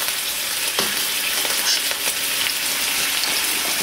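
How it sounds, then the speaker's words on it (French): Zucchini and potatoes fry in butter in a pan, giving a steady, dense sizzle with small crackles and pops throughout, close and fairly loud, with no talking. "je vais rajouter un tout petit peu de beurre pour que ça puisse cuire sans éclabousser partout."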